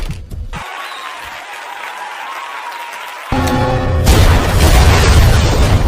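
A time bomb goes off in a film scene: after a hushed stretch, a sudden loud, broad blast erupts and rolls on as a dense, roaring rumble that stays loud to the end.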